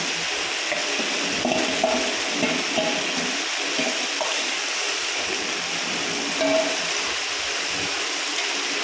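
Mutton frying in a pan with Kashmiri chilli, a steady loud sizzle and hiss throughout with soft scraping stirs now and then, no voices.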